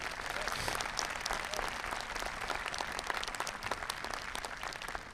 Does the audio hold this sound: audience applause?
yes